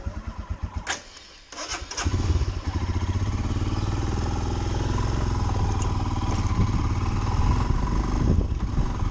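A Royal Enfield Himalayan motorcycle starts up and settles into a steady, loud, close idle with a thumping low rumble, after some brief clatter at the start, with no talking.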